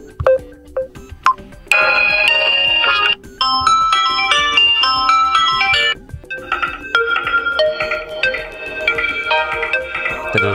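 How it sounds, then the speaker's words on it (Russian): A melodic electronic ringtone from a Samsung Galaxy M01 Core phone plays loudly, bright synthesized chimes in repeating phrases that pause briefly and restart in a new tune. "Давайте включим звук. Послушаем крутые рингтоны."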